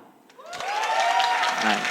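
A church youth congregation breaks into applause at a Sunday service, swelling from a hush into a loud, sustained wash of clapping with a sung or voiced tone running beneath it.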